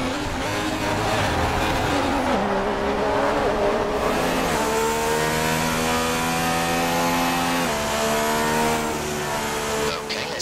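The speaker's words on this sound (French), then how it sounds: "Avec la montée en piste de la voiture de sécurité." Race cars in the F1 2016 video game circulate behind the safety car, a steady loud engine drone with shifting tonal whine as revs rise and fall, continuous throughout.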